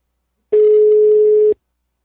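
A single steady electronic telephone tone, loud and clean, sounds for about one second and then stops abruptly, with silence before and after.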